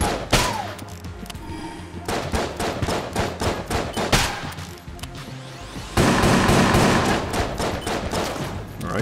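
Enemies in the PC game Enter the Gungeon fire a dense, relentless barrage of gunshots. The rapid cracks and thumps overlap and pile up continuously, with a brief lull before the volume rises again.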